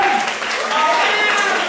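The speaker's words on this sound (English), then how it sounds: "All right, let's give them a round of applause." An audience claps in a round of applause at a bar mitzvah party with a hypnotist, dense steady clapping throughout with voices talking over it.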